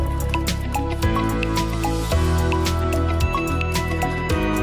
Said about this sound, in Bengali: নুন হলুদ দেওয়ার পরেও আমি এটাকে আবার ভালোভাবে মিশিয়ে নেব